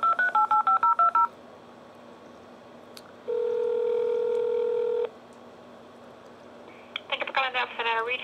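A phone number is dialed on speakerphone with a fast burst of DTMF keypad tones, then a long steady dial or ringing tone, then another quick run of beeps, close and clear with no talking.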